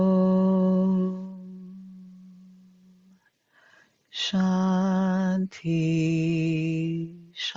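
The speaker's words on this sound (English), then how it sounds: "I'll close our session with the sound of 1 Om and 3 Shantis for peace." A single long chanted Om closes a relaxation meditation, a steady low voiced drone with rich harmonics held for about three seconds, followed after a breath by further sustained chanting in the same close, resonant voice.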